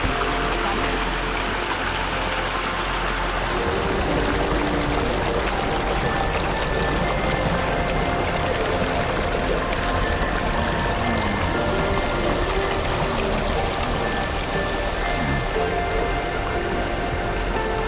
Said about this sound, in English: Just check out this waterfall from down here with 3 foot of elevation